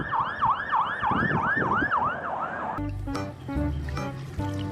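A police patrol car siren wails loudly and close in a rapid rising-and-falling cycle, then cuts off abruptly and gives way to clattering toy and vehicle sounds.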